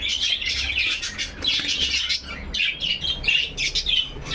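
Budgerigars in a breeding colony chirp and chatter in dense, overlapping bursts, with wing flaps fluttering close by, continuous and fairly loud without speech.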